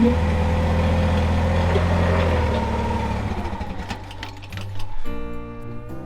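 Frank, a truck, idles as it warms up outdoors, a steady close engine rumble with a sewing-machine-like rhythmic chatter that shifts and roughens partway through before settling back into a fast idle.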